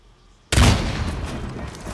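An explosion in the Hitman game bursts in abruptly after a near-silent half second, a loud booming blast with a heavy low thump that rolls off into a sustained rumbling tail.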